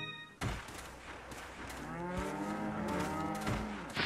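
Cows mooing in the game Resident Evil 4, a loud, drawn-out low bellow with rising and falling pitch, starting after a sharp thump and sustained for several seconds, close and alone.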